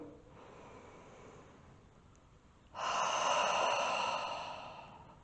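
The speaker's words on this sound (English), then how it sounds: "we will finish with a deep breath together out of the mouth" A slow deep breath during a closing yoga exercise, a faint quiet inhale followed by a louder, long airy exhale out of the mouth that gradually fades, with no talking.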